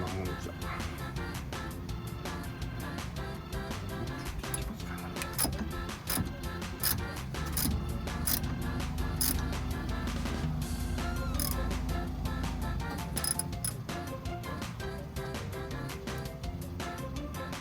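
A ratchet turning the adjuster bolt on a car's alternator belt tensioner, producing dense, repeated close clicking and metallic ticking throughout, with a lower mechanical hum partway through.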